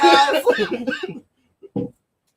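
A person speaks, then after a pause gives a short, close cough, sharp and brief, as a single burst at the end of their talk.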